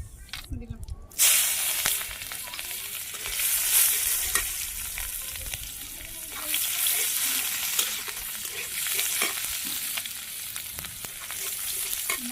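Cumin dropped into a pan of frying spiny gourd sets off a loud, steady sizzle and hiss with occasional stirring scrapes, while people talk over it throughout.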